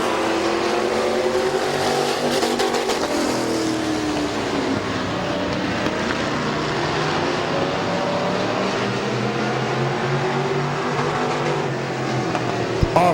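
Race cars roar around the Midvale Speedway track during a heat race, a dense continuous engine drone with shifting pitch as the field comes off a turn, loud and unbroken throughout.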